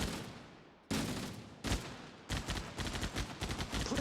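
Gunfire in the video game Halo, a fading shot at the start, then sharp single reports and rapid automatic bursts, loud and close, with no talking.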